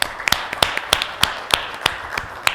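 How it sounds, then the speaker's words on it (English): Sparse clapping sounds out in a slow, steady rhythm of about a dozen sharp claps over a couple of seconds, fairly close and isolated with no voices. "Clap for them."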